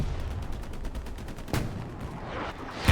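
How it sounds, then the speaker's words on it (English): Artillery shells land in the World War II shooter Hell Let Loose as a rumbling barrage of dull booms and crackling blasts, with a sharper impact midway and another at the end, fairly loud. "artillery still landing all around there"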